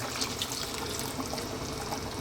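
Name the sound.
pouring water into a simmering chicken curry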